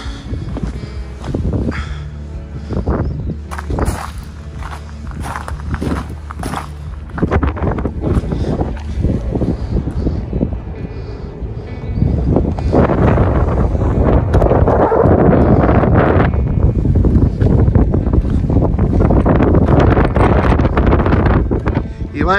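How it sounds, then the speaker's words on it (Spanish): Strong wind buffets the microphone with loud, continuous roaring gusts that swell stronger in the second half, with a person's voice heard briefly in the early part. "¡Vaya vientecico!"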